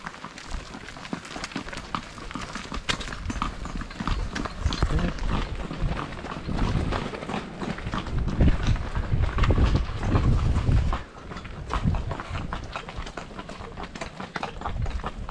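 Horse hooves clip-clop at a steady walking rhythm in a rural yard, close and fairly loud, with rattling and scraping mixed in and a louder, busier passage partway through before it settles again.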